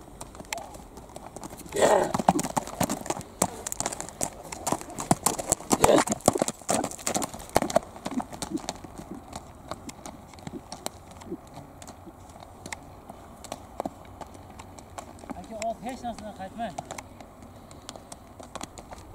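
A young four-year-old kopkari horse in Tashkent region clip-clops on hard ground, with a busy run of close hoofbeats early on that thins to scattered steps, and faint voices later.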